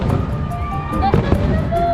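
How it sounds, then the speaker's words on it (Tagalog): Fireworks bursting at the Enchanted Kingdom theme park, with loud crackling pops and whistling trails close by, mixed with crowd voices and cheering. "Ganda ng fireworks!"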